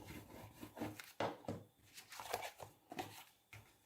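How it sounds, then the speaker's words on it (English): Paper tabs being burnished into place on a papercraft Christmas project, giving a quiet run of rhythmic rubbing and scraping strokes close by, with no talking. "I can just burnish all of that into place"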